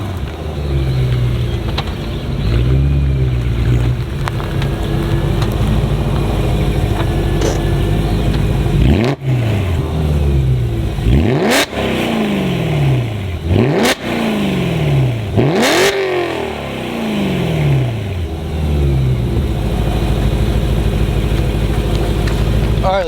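BMW M car engine, an E39 M5 or E92 M3, revving loudly as it accelerates through gears from inside the cabin, with rising and falling pitch sweeps, brief shift gaps and steady road roar.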